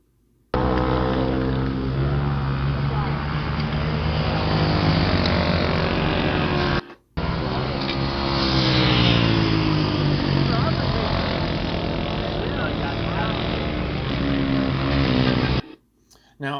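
Motorcycles roar around a dirt flat track race, a loud, steady, close engine drone that runs almost continuously with one brief break partway through.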